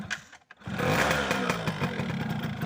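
A standard-engine 2004 Yamaha F1ZR two-stroke motorcycle idles close by, a steady low mechanical putter with a slightly uneven rhythm after a brief quiet gap at the start.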